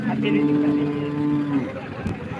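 A dairy cow at a cattle market lets out one long, low moo close by, with faint background noise around it.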